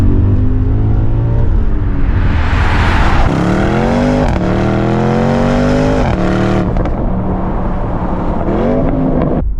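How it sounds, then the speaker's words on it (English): BMW E39 M5 with its V8 engine revving loudly and close up, several rising and falling rev sweeps with strong harmonic tones, heard alone with no talk. "A pure V8 sound."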